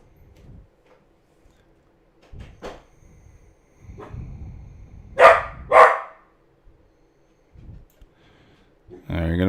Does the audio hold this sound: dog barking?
yes